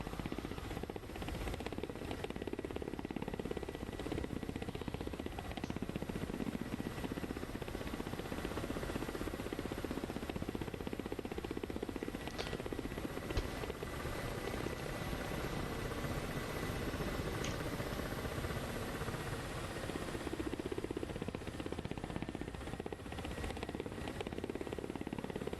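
Helicopter in a flight simulator game, a steady broadband rotor and turbine drone holding constant and loud throughout, with faint higher whine tones and no talk over it.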